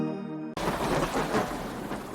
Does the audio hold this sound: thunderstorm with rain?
yes